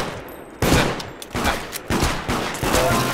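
Rapid gunfire bursts in the video game Deceit, several loud volleys of overlapping shots arriving in quick succession over a few seconds, with no talking.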